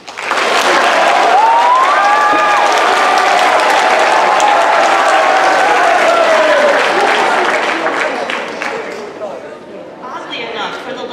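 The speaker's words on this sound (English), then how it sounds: "I figured that would get a big applause." Students receiving awards at a school awards ceremony draw loud, dense applause from the crowd, with voices and cheers mixed in, sustained for several seconds before thinning out toward the end.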